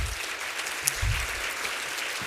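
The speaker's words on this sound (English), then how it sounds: "Let's give a round of applause to our speakers," Audience applause for speakers at a food bank leadership conference session, a soft, diffuse patter of clapping from a room of listeners, steady and moderately distant with no voices over it.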